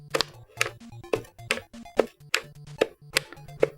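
Button on an NES Advantage arcade-style controller pressed repeatedly to jump in a video game, about eight sharp clicks in a steady rhythm with short game tones between them, close and fairly loud.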